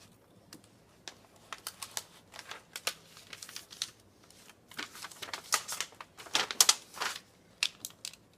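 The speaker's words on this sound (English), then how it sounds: "Tape it onto the back of the paper." Paper tape is pulled, crinkled and pressed onto the back of a sheet of paper for metal tooling, giving a string of close, crisp crackles and rubs of varying loudness.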